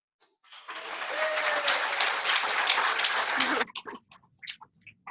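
A conference audience bursts into applause, with dense steady clapping lasting about three seconds before it stops abruptly, leaving a few scattered claps and small noises.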